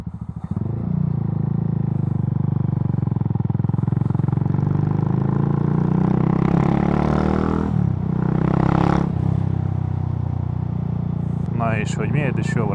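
A small scooter engine runs steadily and loudly for the whole stretch, with a brief dip in the drone partway through, while someone talks over it.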